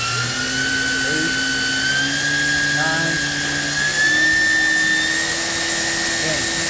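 The spindle of a Mazak VTC 200C vertical machining center spins up toward 10,000 RPM, heard from about a foot away. Its steady whine rises in pitch, and a man counts the speed over the sound.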